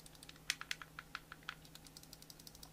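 Triggers on a Razer Kishi V2 Pro mobile game controller clicking during a teardown, a quick series of about ten crisp, close plastic clicks in an uneven rhythm over a faint steady hum.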